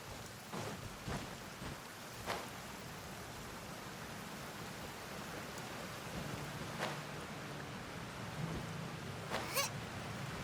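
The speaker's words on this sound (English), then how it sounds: "The rain has stopped." Steady rain falling in the video game Genshin Impact, a soft, even hiss of quiet moderate intensity, broken by a few brief louder spatters or cracks.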